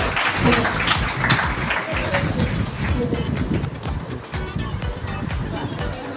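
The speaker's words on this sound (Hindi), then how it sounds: "तालियां हो जाए छोटी सी बच्ची के लिए।" An audience at a women's safety and employment event claps for a little girl taking the stage to sing. The applause forms a dense, steady, loud wash of many hands, with voices mixed in underneath.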